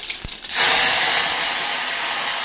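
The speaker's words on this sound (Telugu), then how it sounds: "ఇప్పుడు తాలింపు వేసేస్తాను. జీలకర్ర, ఆవాలు, ఎండుమిర్చి, కరివేపాకు." Cumin, mustard seeds, dried red chillies and curry leaves hit hot oil for a cucumber dal tempering, setting off a sudden loud sizzle that holds steady and close, with no voices.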